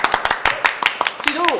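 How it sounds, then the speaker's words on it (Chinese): A small group claps at an indoor gathering of friends with quick, uneven bursts of hand claps, fairly close. A voice rises briefly near the end. "哎，鼓掌鼓掌鼓掌！"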